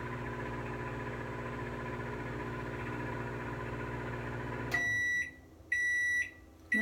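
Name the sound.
microwave oven humming while warming milk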